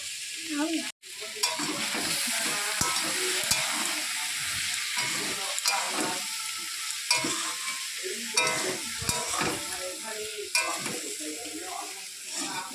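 Ground cumin and coriander stirred through a sizzling frying pan, a steady frying hiss with scraping strokes from the spoon throughout, close and fairly loud.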